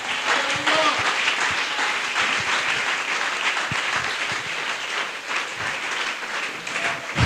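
Congregation applause fills a church service, a dense, steady wash of clapping that carries on for several seconds with a voice faintly present beneath it.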